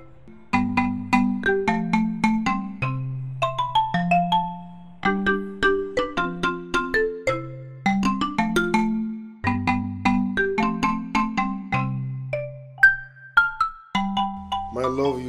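A phone ringtone plays a bright, bell-like electronic melody that repeats its looping tune several times at a steady pace, clear and alone.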